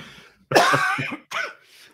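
Two close, harsh coughs, the first longer and rougher, the second short, with near silence around them.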